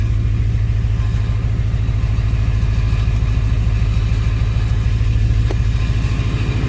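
A 2008 Ford Crown Victoria Police Interceptor engine idling close by with a damaged exhaust bracket, a loud, steady low rumble with an even pulsing throb throughout.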